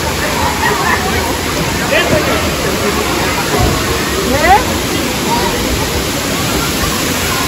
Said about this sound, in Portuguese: Olha essa água, gente.